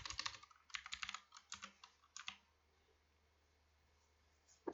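Close, crisp typing on a computer keyboard: bursts of rapid key clicks during the first two and a half seconds, then near silence, with one final keystroke at the end.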